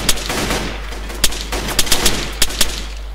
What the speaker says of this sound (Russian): Я такой нажимаю, 3 патрона выстреливаются, и тишина.